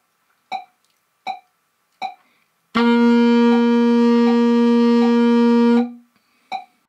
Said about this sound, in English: So press down the first 3 fingers of the left hand without the octave key and sound the G